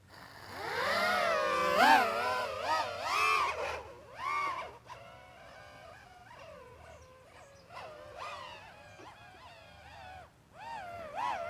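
Motors of a mini racing drone whine in flight, rising and falling in sharp swooping pitch bends as the throttle changes, loud at first and then easing into quieter wavering passes.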